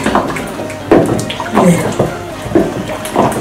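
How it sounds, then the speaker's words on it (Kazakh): Dissolved kurt liquid is poured back into a pot, splashing and gurgling in several close bursts that swell and fade, with some faint background voice. "Езіп, соны қайтадан қазанға құйып отырамыз."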